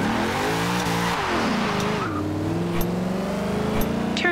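Race cars revving at the start of a video game race, a dense layer of engine drone with rising pitch sweeps and a brief tire-squeal tone, loud and continuous throughout.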